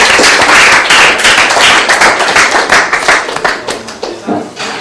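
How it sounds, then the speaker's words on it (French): A small group claps in quick, uneven hand slaps that start strong and thin out toward the end, with a few voices mixed in. "on va refaire un petit applaudissement quand même"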